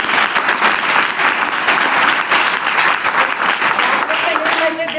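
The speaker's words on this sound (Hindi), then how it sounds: "उस सर के लिए एक बार जोरदार ताली होना चाहिए" An indoor audience applauds a teacher with sustained, dense clapping at fairly close range, with some voices mixed into the crowd.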